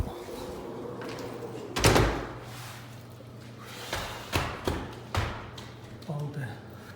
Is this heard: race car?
no